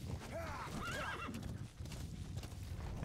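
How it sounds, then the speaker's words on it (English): A horse in the Metal Gear Solid V: The Phantom Pain video game whinnies loudly in a rising and falling neigh, with clip-clopping hooves and game ambience continuing underneath. "You got the horse."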